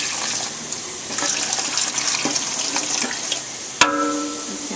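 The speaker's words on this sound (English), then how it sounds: "She's pouring in the first quart of water." Water pours from a jar into a pressure canner in a steady splashing stream, followed by a sharp metallic clink with a ringing tone near the end.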